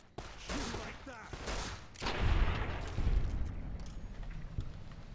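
Gunfire in the video game Fallout: New Vegas, a few muffled bursts of shots and booms over a noisy background, with a voice talking in places.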